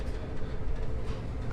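Continuous rumble and rattle of a fast Brightline passenger train riding along the tracks to Orlando, close and steady for the whole moment.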